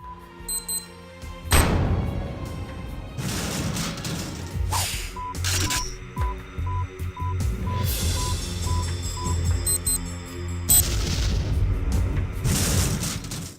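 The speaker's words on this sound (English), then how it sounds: "Just compare the sound of these 2 explosions" Two in-game explosions from the shooters Homefront: The Revolution and TimeSplitters, each a loud, deep boom with a rumbling tail, followed by beeps, whooshes and other game effects with no talking.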